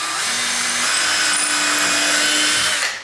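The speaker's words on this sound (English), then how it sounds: "allow my drill bit to go all the way in without hitting the hinge" A power drill runs continuously as the bit bores into a wooden door frame beside a hinge, a loud, steady whining grind lasting about three seconds before it stops.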